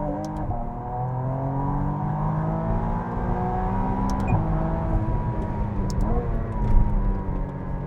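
McLaren Artura Spider accelerating hard in track mode, its engine rising steadily in pitch with quick gear shifts, loud and close with no talk over it.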